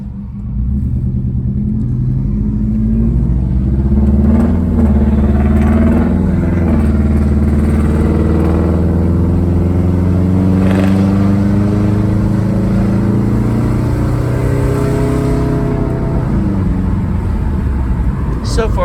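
A 2005 Subaru with a turbocharger driven gently on a test spin, steady engine drone and road rumble filling the cabin throughout, with someone talking over it.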